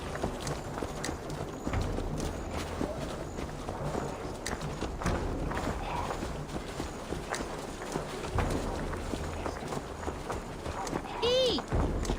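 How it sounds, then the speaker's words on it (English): Horse hooves clip-clop in a steady galloping rhythm amid busy background noise and voices in Assassin's Creed Valhalla, with a brief whistling tone near the end. "Stop that horse!"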